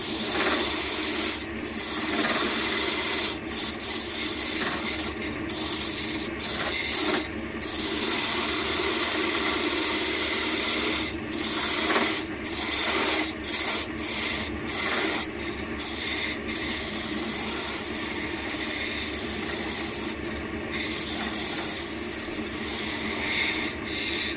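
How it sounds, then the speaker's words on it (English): A diamond parting tool scrapes a tenon with a slight dovetail into spalted beech on a wood lathe, giving a continuous loud rasping hiss with short breaks as the tool lifts off, and no talk. "I'm just using my diamond parting tool to put the tenon on and also to give it a bit of a dovetail."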